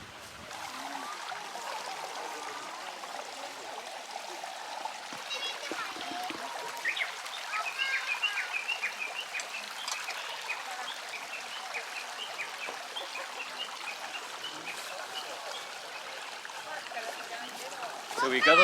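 A river stream flows steadily outdoors, a continuous rushing and trickling wash of water heard close, with occasional splashes and a faint voice underneath.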